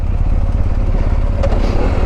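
A motorcycle engine putters steadily and loudly at low revs, with a rough pulsing rumble and some clatter, engine braking down a steep, rocky slope.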